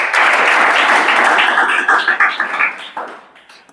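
Students in a classroom clap together in a loud, even burst that breaks into separate, slowing claps and dies away.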